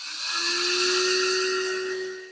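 The servo of an RC car mounted on a 3D printed bracket switches on with a steady, close electric whine. The tone holds one pitch and stays even throughout.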